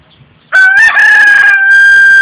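A rooster crows loudly and close by, one long strained cock-a-doodle-doo that starts abruptly after a moment of near silence and holds to the end.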